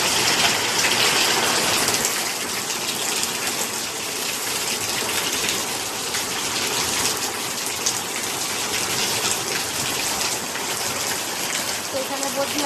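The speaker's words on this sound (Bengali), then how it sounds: "তো পুরো এখানটা জল মারিয়ে যাচ্ছে" Water splashes and gushes continuously across a cooking area, a loud, dense, rain-like spatter that holds steady throughout.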